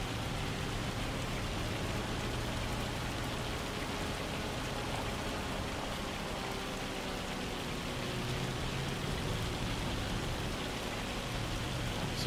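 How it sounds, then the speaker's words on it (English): Heavy rain in the Farming Simulator 25 game, a steady, even hiss of downpour with no breaks, soft and uniform throughout. "Some heavy rain."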